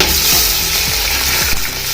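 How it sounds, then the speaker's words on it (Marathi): Onion sizzles and crackles loudly and steadily in hot oil, with a few soft stirring scrapes underneath. "हे बघा हे चांगले गरम झालेले यामध्ये मी कांदा सोडते"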